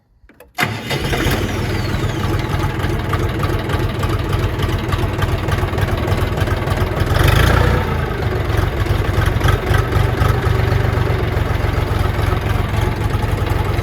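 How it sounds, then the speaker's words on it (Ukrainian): A Kentavr 244S mini tractor's small engine cranks and catches, then settles into a loud, steady, throbbing idle that runs on without stopping. "Ось так працює даний тракторець."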